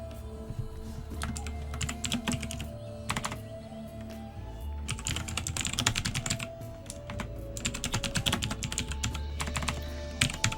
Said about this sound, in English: Excuse my obnoxious loud-ass keyboard.